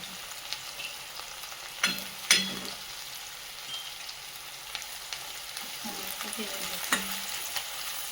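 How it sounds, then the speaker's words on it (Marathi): Green chilies and garlic sautéing in a pan for Maharashtrian pithla, a steady soft sizzle with a few louder scraping stirs of a spatula, close and alone with no talk. "थोडं लाल होईपर्यंत परतू द्यायचं"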